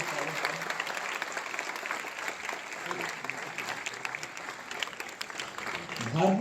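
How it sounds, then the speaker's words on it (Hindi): An audience at a youth interaction event applauds to welcome a guest, with dense, sustained clapping from a large crowd that stays steady. It swells slightly at the very end. "आप लोग भी जरा जोरदार ताली बजाकर भाई साहब का स्वागत करें"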